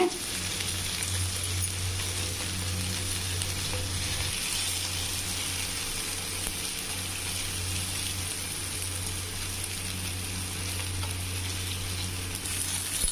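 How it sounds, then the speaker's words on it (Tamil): Paneer frying in ghee in a pan, a steady close sizzle running continuously without a break and with no talking. "பன்னீரை இதில் போட்டு ஃப்ரை பண்ணிக்கலாம்."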